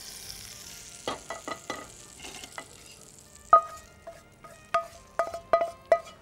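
Mustard seeds and cumin crackle in hot oil as a tempering is poured over a dish, a quiet sizzle with sharp pops and crackles coming in quick scattered bursts.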